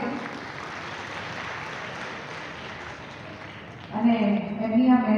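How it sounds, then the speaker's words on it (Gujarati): Applause from an audience at an agricultural millet festival drama performance, a steady broadband clatter of many hands sustained for several seconds before a voice begins speaking over it near the end. "એકવાર જોરદાર તાળીઓ થવી જોઈએ આ સૌ કલાકારો માટે."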